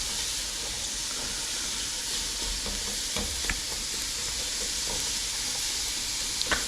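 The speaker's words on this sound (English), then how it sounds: "Break everything down and start mixing." Chicken and rice ingredients stirred in a hot pan over medium heat, a steady hiss of sizzling with faint scraping and soft clicks of a utensil, close and continuous, no speech.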